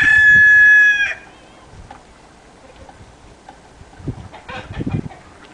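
A rooster crows loudly for about a second, then quieter scattered clucks and rustling from chickens nearby.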